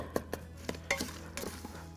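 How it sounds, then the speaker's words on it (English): Spoon scrapes and taps against an Instant Pot while brown sugar topping is stirred, a run of close, irregular clinks over a low steady hum. "Gonna mix this around just for a second."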